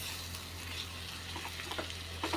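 Bottle gourd being sautéed with red chillies in a pan, giving a steady soft sizzle with light scraping and stirring clicks near the end, close and alone.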